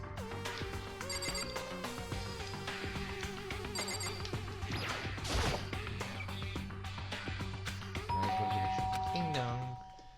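A doorbell chimes in the Danganronpa: Trigger Happy Havoc video game, bright ringing tones over game music and sound effects, ending with a descending chime, while people talk throughout.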